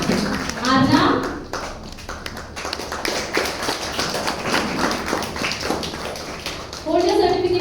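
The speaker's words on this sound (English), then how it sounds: "Come on, clap for your friends." Students at a Standard 3 STEM demo certificate ceremony clap for classmates, a scattered patter of small hands through most of the stretch while an adult speaks over it.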